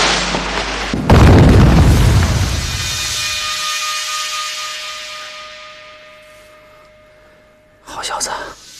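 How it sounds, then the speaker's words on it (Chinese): A tunnel is blown up in a wartime drama: a loud, deep explosion boom that rolls out and slowly fades over several seconds, followed by a short burst of crackling debris. "下去之后把地道给炸了。"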